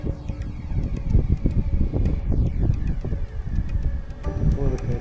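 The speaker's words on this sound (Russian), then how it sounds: "Какой-то ветер поднялся нездоровый." Strong spring wind gusting across a park on an island, a steady loud rushing roar buffeting the microphone throughout, with faint higher tones over the low rumble.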